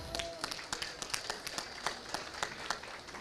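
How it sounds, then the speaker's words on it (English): Faint scattered applause for heifer exhibitors at a winter farm show, heard as light, uneven claps from a small crowd in a show ring. "let's start by giving all these heifer exhibitors a big round of applause"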